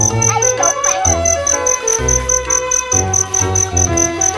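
Crickets chirp in a garden during a children's cricket-catching game, a dense insect trill running steadily over a busy background of music-like tones and clutter.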